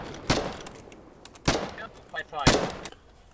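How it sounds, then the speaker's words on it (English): Gunfire in the video game Foxhole after a reload: three sharp, loud shots spaced about a second apart, each with a short decaying tail, with faint mechanical reload clicks between them. "And reload again and fire again."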